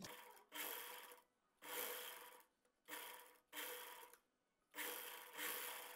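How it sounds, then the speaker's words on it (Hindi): A sewing machine runs in four separate bursts of steady whirring stitching, each lasting about a second, with short quiet pauses between them as a zipper is sewn onto a kurti. "अब यहाँ से जिप को लगा देंगे लगाने के बाद नीचे तक सिलाई लगाएंगे"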